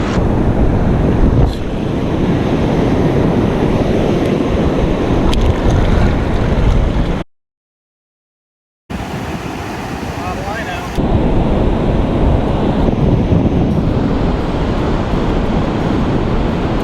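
Strong wind buffets the microphone over steady surf at Boca Chica Beach while fishing, loud and continuous, broken by a brief silent gap in the middle.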